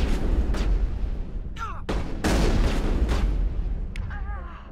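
Rocket explosions in Mass Effect 1 combat: several loud, close booming blasts in quick succession, each a sharp broadband crack with a rumbling tail, with someone talking between them.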